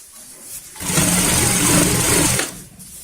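Sewing machine running steadily for about two seconds while stitching a seam on a baby bed sheet, a continuous mechanical whir that starts and stops abruptly, close and fairly loud with no talk.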